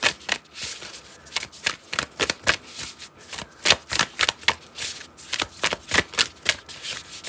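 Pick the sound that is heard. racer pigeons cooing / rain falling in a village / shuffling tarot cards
shuffling tarot cards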